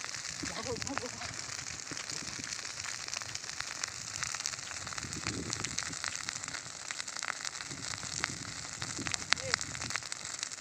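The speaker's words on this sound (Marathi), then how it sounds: "कशी आग एकदम सरळच आग चालली." An open fire burns in a village with flames rising straight up, giving a continuous rushing crackle with sharp pops throughout while people talk nearby.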